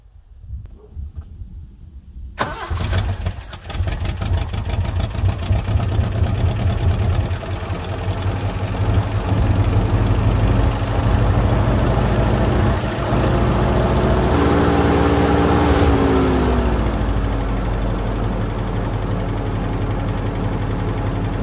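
Subaru Brat engine starting after long storage and running steadily, with a loud continuous idle and a rapid ticking lifter rhythm throughout, close up with no talk.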